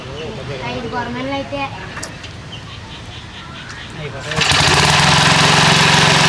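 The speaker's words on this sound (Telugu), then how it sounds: "ఓహో, మళ్ళీ అయితే స్టార్ట్ అయిపోయింది" A motor pump engine beside a dirty canal fishing spot sits silent under voices at first, then cranks back to life and runs loud and steady, a dense close roar with an even rhythm.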